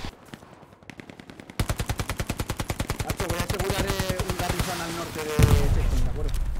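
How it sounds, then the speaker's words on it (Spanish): Sustained machine-gun fire in the World War II shooter Hell Let Loose, a loud, rapid, evenly spaced stream of shots that starts abruptly and keeps going, with heavier blasts rumbling in near the end. "Me están disparando desde donde estaba el Garrison"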